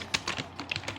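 A computer keyboard gets a quick burst of typing, about eight to ten crisp, close keystrokes in an uneven rhythm with no talking.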